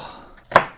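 A single sharp knife chop through an onion on a cutting board while Korean side dishes are being made, one close, loud impact that fades quickly in an otherwise quiet kitchen.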